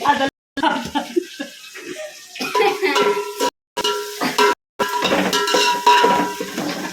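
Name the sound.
onions frying in a pan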